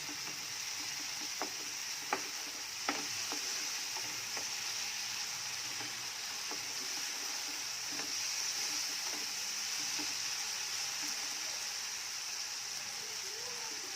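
Onions and tomatoes sauté in a pan for a South Indian tempered rice dish, a steady, soft hiss of frying that holds evenly throughout, dotted with a few faint spoon taps and pops.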